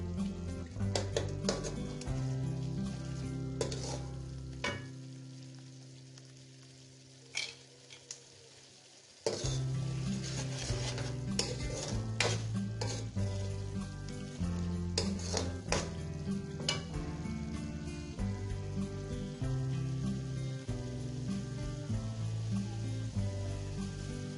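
Chicken karahi seasoned only with salt and black pepper stirs and sizzles in a pan, a spoon scraping and clinking against metal over steady frying, with a brief quieter gap midway before the bright sizzle resumes.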